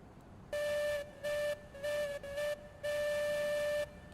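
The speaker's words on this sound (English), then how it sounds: "Yeah, I like that for the whistle a lot" A steam-style train whistle in the Rolling Line model railway game sounds five steady tonal blasts, four short and evenly spaced and the last held longest, clear and loud over a quiet background.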